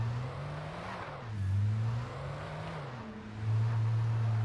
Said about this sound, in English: it's just the car screeching sometimes